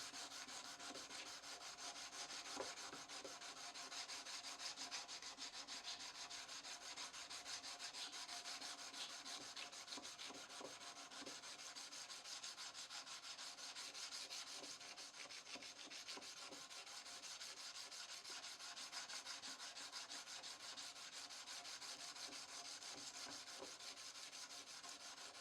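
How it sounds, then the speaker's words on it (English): A knife blade is sharpened and polished by hand with stones and sandpaper, producing a faint, steady rasping scrape in continuous back-and-forth strokes for the full length, with no talking. "most of the sharpening and polishing is done by hand, using various stones and sandpaper"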